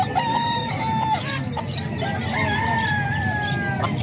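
A young gamecock stag, a White Kelso fowl, crows repeatedly and clucks nearby, its calls loud and clear over a steady background of other farm birds.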